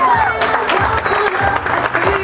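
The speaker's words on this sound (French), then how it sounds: "Et l'on peut applaudir beaucoup plus fort que ça" An audience at a Miss Bretagne pageant applauds and cheers with loud, sustained clapping that fills the hall, while a voice carries over the crowd.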